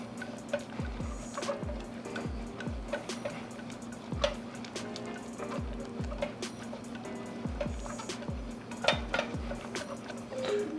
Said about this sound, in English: Just gonna keep stirring it, making sure our sauce doesn't burn to the bottom of our pan